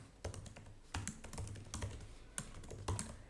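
Someone types code on a computer keyboard in quick irregular bursts of crisp key clicks and a few heavier thocks, close and clear with no voices.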